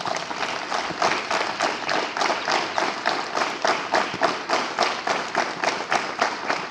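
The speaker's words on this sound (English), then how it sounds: "Clap together." Students at a morning school assembly clap hands together in a steady, even rhythm, many palms striking in unison over and over without pause.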